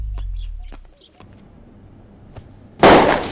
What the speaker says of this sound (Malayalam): പടക്കം അവര് തുടങ്ങി.